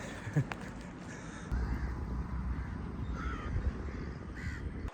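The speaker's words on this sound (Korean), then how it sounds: "아 까마귀야 까마귀" Several crow caws ring out at moderate distance, spaced apart, over a steady low outdoor rumble, in an abandoned city in Malaysia.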